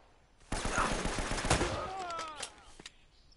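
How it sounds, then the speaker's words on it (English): Sustained gunfire rattles through the action game Uncharted, a dense burst of shots lasting a couple of seconds at moderate distance, with a voice speaking briefly beneath it. "I just want to shoot you."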